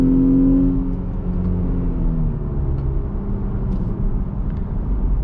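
A Jeep engine, with aftermarket exhaust and intake, revs and drops through gears via paddle shifters, a loud, close, deep rumble with falling pitch as it shifts.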